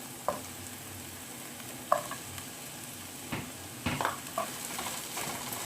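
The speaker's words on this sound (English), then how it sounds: "Now add chopped carrot and capsicum." Chopped carrot and capsicum stir-fried in a pan for spicy veg pasta, with a steady sizzle and several scraping spatula strokes, close and with no talk.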